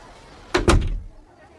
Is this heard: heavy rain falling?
no